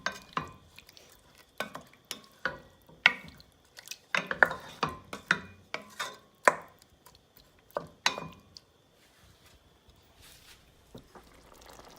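Chicken ragu stirred in a pot, a spoon scraping and knocking in irregular bursts against quiet simmering, with the strokes thinning out toward the end.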